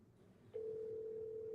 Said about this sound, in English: I'm gonna call her real quick